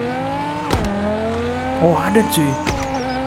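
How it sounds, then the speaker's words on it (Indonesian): A car in the mobile game Car Parking Multiplayer revs its engine with sharp exhaust pops, a few quick cracks over a droning engine tone, with someone speaking briefly over it. "Kalau tadi soalnya ada ya meletup dari knalpotnya tuh ada."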